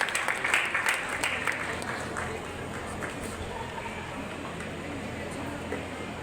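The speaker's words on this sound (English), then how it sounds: "Kindly give them a big round of applause" Applause for prize-winning students at a school birthday anniversary function in Hyderabad, a moderate crowd clapping that is strongest at the start and then thins into a softer, fainter patter with some background voices.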